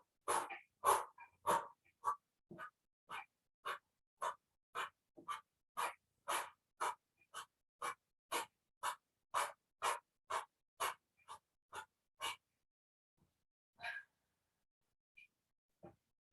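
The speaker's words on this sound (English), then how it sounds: "as you're breathing out, it's quite exaggerated" Exaggerated exhaling during an abs workout: a long series of short, sharp breaths out in a steady rhythm, close and clear, about twenty in a row before a pause and a few last ones.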